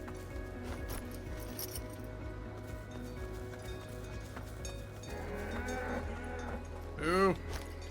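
A cow in the video game Dungeons of Hinterburg lets out a single drawn-out moo near the end, rising over a steady bed of game music and ambience.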